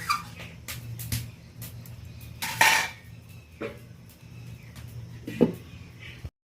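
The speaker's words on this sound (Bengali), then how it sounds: "হালকাভাবে আমি একটু নেড়ে নিচ্ছি, একটা ঢাকনা চাপিয়ে দেব।" Metal pot lid set down with a clatter on a pan of fried fish and brinjal in a home kitchen, one loud clank in the middle amid lighter utensil knocks and faint background noise.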